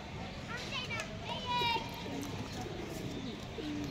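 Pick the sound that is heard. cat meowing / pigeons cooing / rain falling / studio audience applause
pigeons cooing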